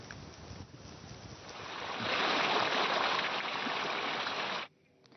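Floodwater of the swollen Balganga river in Raigad district rushes after torrential rain, a steady broad roar that swells louder midway and then cuts off abruptly.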